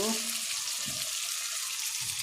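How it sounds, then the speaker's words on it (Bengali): Blended onion with red chili powder and spices fries in a pan, a soft continuous sizzle with a few brief stirring scrapes, heard close and fairly quiet. "পেঁয়াজ ব্লেন্ডার করে রেখেছিলাম সেইটা দিয়ে ভালোভাবে কষিয়ে নেব"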